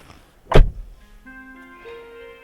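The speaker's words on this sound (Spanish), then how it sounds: "Y vamos a cerrar la puerta." Car door of a Hyundai i40 sedan shut with a single solid thud, followed by soft electronic chime tones from the cabin, close and quiet otherwise.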